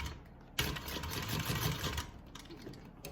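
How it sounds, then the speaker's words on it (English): A sewing machine stitches a bag seam in a steady, close whirring run that lasts about a second and a half, then slows and stops in a few softer bursts. "So now I'm going to go back and just stitch from the end."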